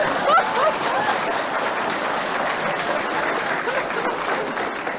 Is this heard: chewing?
no